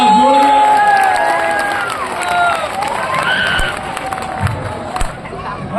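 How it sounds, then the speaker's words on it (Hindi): A crowd at a Jai Shree Ram religious gathering claps and cheers with hands raised, loud and sustained, with shouts and whoops over the clapping and voices mixed through it. "तालियां जोरदार वाली हाथ उठा के बजाओ"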